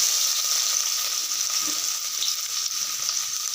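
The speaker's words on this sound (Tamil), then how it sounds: "அடுத்து வெட்டி வச்சுருக்க வெங்காயத்தை போட்டுக்கிறேன்" Chopped onions frying in ghee for ghee rice, a dense, steady hiss of sizzling oil filling the whole moment without pause, close and fairly loud, with no voices.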